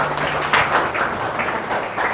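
An audience claps together at a grade 9 achievement motivation training session, a steady, continuous wash of applause filling the whole stretch with no voices over it.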